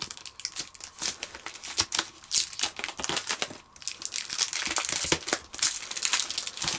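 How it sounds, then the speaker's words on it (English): A knife cuts open stiff plastic packaging on a MacBook Air case cover: quiet, close crinkling and crackling with short tearing snaps in an irregular, steady rhythm. "Found the packaging a bit hard to open, so I'm just going to use my trusty knife here"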